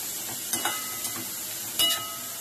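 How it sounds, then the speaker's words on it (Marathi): Finely chopped onion fries in oil over a high flame for cabbage sabji, a soft constant sizzle punctuated by a few quick stirring clicks and scrapes close by. "मी बारीक चिरलेला कांदा 5 आहे तेच टाकून देणार. आता ही गॅस फास्ट ठेवायचा"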